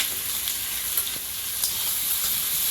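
Cumin and dal hitting hot oil in a pan, a steady, close, bright sizzle and crackle throughout with no talking.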